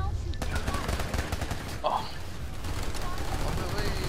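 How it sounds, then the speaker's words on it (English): Gunfire rattles in sustained bursts in the online shooter PlanetSide 2, with a grenade blast among the firefight; the shots are dense and fairly close, with players' voices talking over the combat. "Oh god, there was a grenade."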